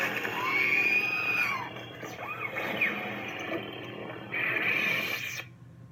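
Creature effects from a Dagobah-themed lightsaber sound font: shrill screeches and squealing cries rise and fall over a dim rumbling bed, with a louder wail near the end before cutting to silence, no speech.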